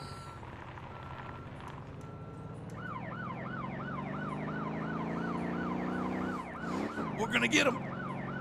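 A police siren in the video game Motortown wails in steady rising and falling cycles over a low engine hum, with someone speaking briefly near the end.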